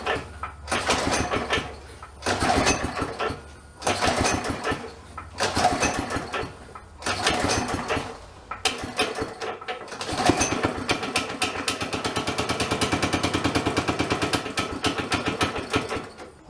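A go-kart engine, fed with fuel dumped into the carburetor, sputters through repeated bursts of cranking and brief firing before it catches and runs roughly and steadily near at hand.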